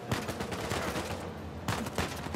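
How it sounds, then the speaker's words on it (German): Gunfire in the video game Uncharted 4 crackles in a dense, continuous fusillade of rapid shots, loud and close throughout. "Schüsse."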